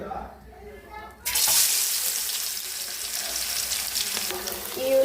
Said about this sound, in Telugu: ఆయిల్ అయితే బాగా వేడైంది ఉల్లిపాయ వేసుకున్నాం